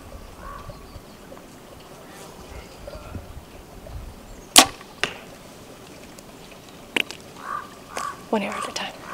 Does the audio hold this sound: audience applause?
no